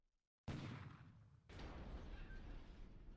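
Naval 4-inch guns firing on a submarine in a Pacific war game, heard as a sudden loud blast followed by a second heavy boom about a second later, with sustained rumbling wash between and after.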